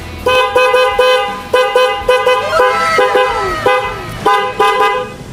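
A loud, bright aftermarket big horn on a Honda Click scooter honks in a run of short toots and a few longer blasts, close by, with a brief wavering tone in the middle.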